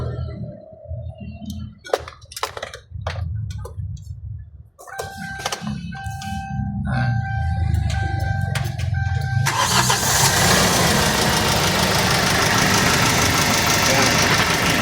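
Overhauled D4CB diesel engine cranked and started: starter clunks and cranking with a whining tone, then catching into a loud, rough, steady diesel idle with clatter, close by, with people talking over the early part.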